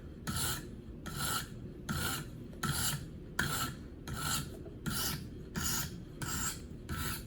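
A Gerber Paralite knife blade draws across a KME sharpening stone with light pressure, making a soft, evenly paced series of about nine rasping strokes, each a short scrape separated by brief pauses.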